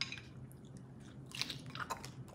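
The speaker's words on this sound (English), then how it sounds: "let's get into this Mexican pizza. Yum, yum. Y'all take the first bite. Let me bite." Bite into a crunchy Mexican pizza followed by close, quiet chewing crunches, several soft crackling bursts in a short sequence with no talk.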